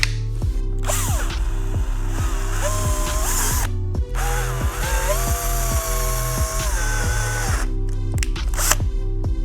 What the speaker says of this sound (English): I will be doing that with the Dremel